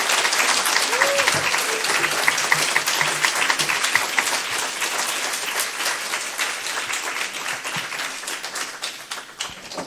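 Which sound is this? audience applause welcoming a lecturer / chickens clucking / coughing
audience applause welcoming a lecturer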